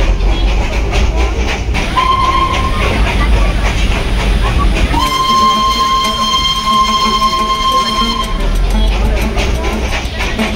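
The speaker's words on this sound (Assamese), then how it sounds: "আমি টয় ট্ৰেইনত ঠিকলানি বহি ল'লো দাৰ্জিলিং আহিলেতো টয় ট্ৰেইনত নোঠোৱাকেতো যাবই নোৱাৰি" The Darjeeling toy train runs with a continuous loud rumble and rattle of carriages, and a sustained whistle-like tone sounds partway through and for several seconds. Voices may be faintly present under the noise.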